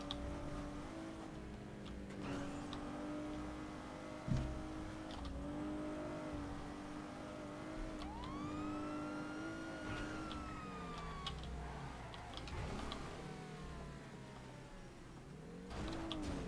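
A car engine revs in the GTA video game, rising and falling whines under game ambience, with bird cooing and a distant siren mixed in and no talking.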